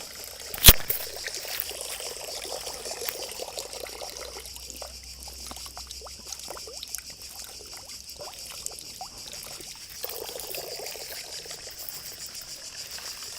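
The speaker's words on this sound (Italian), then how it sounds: "Ecco la famigerata fontana." Water pouring and trickling from a public fountain in Venice, a steady splashing stream at close range with faint insect-like chirping in the background and a sharp knock near the start.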